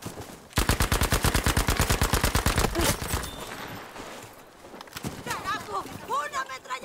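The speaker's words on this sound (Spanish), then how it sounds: "¡Una ametralladora!" Rapid sustained machine gun fire from Battlefield V, a loud fast regular stream of shots for about two seconds, then scattered explosions and effects while someone talks excitedly over the game.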